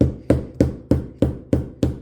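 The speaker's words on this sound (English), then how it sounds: "hammer this down nice and flat" Seven sharp hammer strikes flatten a 1958 MGA trunk part at an even, brisk pace, each ringing briefly before the next blow, close and loud.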